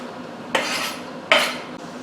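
Zucchini mixture tipped onto meat in a pan, two short bursts of scraping and clattering utensil noise with quiet gaps between them.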